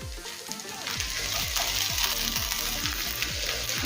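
Sabudana upma frying in a pan as half a spoon of ghee is stirred through it: a dense, close sizzle with repeated rhythmic scrapes of the spoon throughout.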